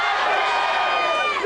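A college homecoming crowd cheers and shouts during a Spirit Shout competition on campus, a loud, continuous wash of many voices whooping together with a rising shrill cry near the end.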